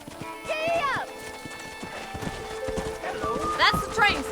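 Hooves clip-clop at a steady pace as a horse trots in Red Dead Redemption, with a couple of whinnies and neighs along the way, under game-character dialogue and a shouted urging.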